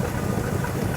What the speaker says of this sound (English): Now we do have a busted manifold on this side, so you may hear some chuffing.